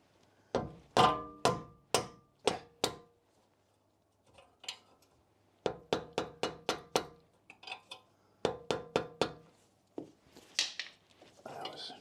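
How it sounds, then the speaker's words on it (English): A rubber mallet strikes the wishbone of a Jaguar X100 in quick bursts of sharp, close knocks, roughly five or six per burst, with short pauses between bursts. "Rubber mallet to save my hands."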